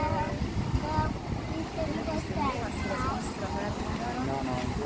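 A jet ski engine whines and drones on the sea at the start of a marathon swim in Milazzo, mixed with wind and splashing while people talk excitedly over it.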